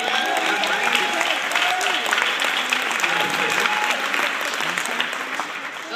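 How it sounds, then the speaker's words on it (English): Sustained applause from a large audience at the Team Beachbody Summit 2013, loud and steady throughout with dense clapping and some crowd voices mixed in. "You can clap."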